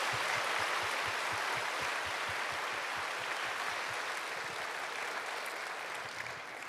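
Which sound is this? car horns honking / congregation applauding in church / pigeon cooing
congregation applauding in church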